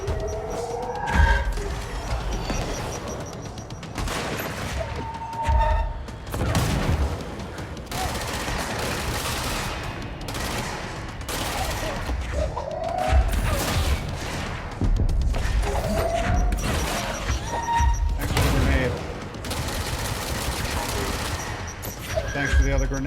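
Grenade explosions in the action video game Control burst out repeatedly, loud and close, in a busy stretch of combat mixed with rapid gunfire and a voice talking over the noise.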